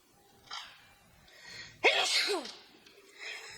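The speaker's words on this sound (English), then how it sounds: "I feel like I'm gonna sneeze." A single sharp sneeze bursts out after a short intake of breath, loud and close, with quieter rustling before and after.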